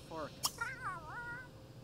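A cat meows inside The Sims 3 game, two or three drawn-out wavering meows in close succession with a brief sharp click between, heard over a low steady background hum.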